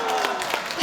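Audience applause fills a Korean talk concert held for the second anniversary of Andong's mayor, a dense steady wash of clapping at close range that runs the whole brief moment.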